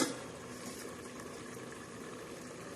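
Dill greens vegetable cooking with garlic, peanuts and green chillies under a lid, giving a faint, steady bubbling simmer with a soft continuous hiss and no distinct events.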